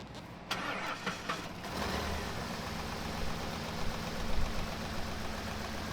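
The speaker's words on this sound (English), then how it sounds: "can you do me a favor and go start the truck for me, Ben?" A truck engine cranks briefly and catches, then settles into a steady, fairly loud idle that runs for several seconds during ignition diagnosis work.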